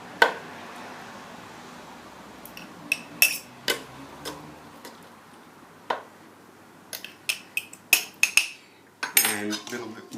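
Eggplant pieces being packed into a glass jar with oil in a home kitchen, giving scattered sharp clinks of a utensil against glass, sparse at first and quicker, louder taps near the end.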